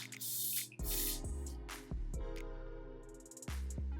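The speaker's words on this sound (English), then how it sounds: "I am gonna go over top it with that same spray" Hair spray being sprayed onto wig lace edges, several short hissing bursts from an aerosol can close by, separated by brief pauses.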